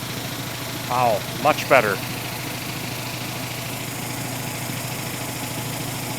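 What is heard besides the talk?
giant vibratory tumbler running on heavy steel pallet base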